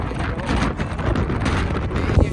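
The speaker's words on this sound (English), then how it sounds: "it's quite windy." Wind buffeting a microphone on a cold, cloudy hiking trail, a loud, dense roar with uneven gusts across the short stretch.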